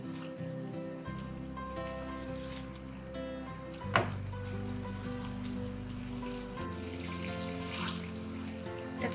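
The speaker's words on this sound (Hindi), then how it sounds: "तकरीबन हाफ ग्लास पानी मैं इसमें ऐड कर दूंगी" Water is poured into a pot of potatoes and fried spices for tahari, a soft, steady splashing trickle with a brief clatter near the middle, quiet and close over faint kitchen background.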